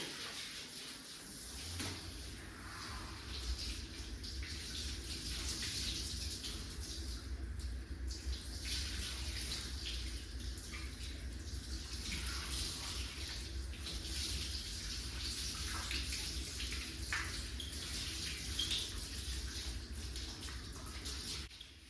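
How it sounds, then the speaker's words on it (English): Running water from a grooming sprayer rinses shampoo and conditioner out of a heavily matted cocker spaniel's coat, a steady broadband hiss that holds for the whole stretch with only small shifts in flow. "So it's time to get thoroughly rinsed because we don't really want any shampoo or conditioner left in it"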